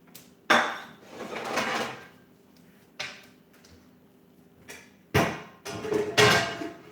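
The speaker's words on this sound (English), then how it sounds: "Now, go ahead and put my dishes away." Dishes being put away in a kitchen after cooking: several separate bursts of clattering crockery and clinking with quiet gaps between, fairly close and with no talking.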